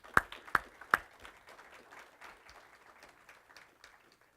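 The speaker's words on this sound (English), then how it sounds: "deserves a great well, round of applause from all of us." Audience at a genetics symposium lecture gives a round of applause, a few sharp close claps up front followed by a soft, scattered patter of clapping from the room.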